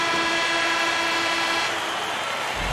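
Period-ending horn in the NHL 13 hockey video game, a loud sustained blaring horn tone over arena crowd noise that fades out toward the end.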